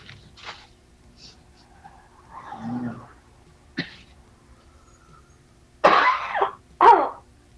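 A woman coughs in a cold room, with a muffled rough cough early on, then two sharp, loud coughs close to the listener near the end, separated by quiet pauses.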